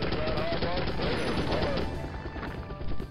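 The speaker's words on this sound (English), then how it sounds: "someone's shooting at me" Enemy gunfire in the 1998 game M.I.A. Missing in Action: a dense, loud, continuous rattle of rapid shots with a brief lull in the middle, then a renewed burst.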